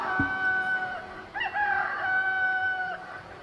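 A rooster crow played as a sound effect during a Ram Katha religious discourse: one long, clear cock-a-doodle-doo with a rising break midway, loud and alone over a faint room hum.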